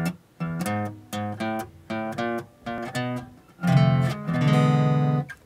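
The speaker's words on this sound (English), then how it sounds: "we're gonna play our 12-bar blues four times through and add the ending" An acoustic-style guitar plays the ending of a 12-bar blues in E, with a run of short plucked note pairs followed by longer ringing chords, close and moderately loud with no talking.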